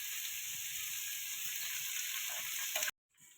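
Onions, tomatoes and ground coriander frying for masala pasta, a steady close sizzle and hiss that cuts off abruptly near the end, followed by faint low sound.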